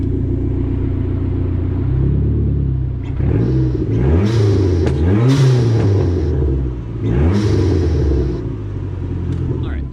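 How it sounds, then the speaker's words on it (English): A Dodge SRT4 turbocharged engine idles with a low rumble, then is revved hard in several swelling bursts, each followed by a rising and falling turbo whoosh, close and loud. "we'll take a listen to the turbo sounds and tell me what you think"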